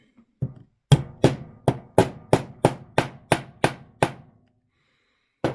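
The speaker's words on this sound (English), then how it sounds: "Hammer it in." About a dozen sharp metallic hammer blows drive a bushing into an E. Ingraham mantel clock plate, in a steady rhythm, close and loud, each ringing strike fading quickly before the next.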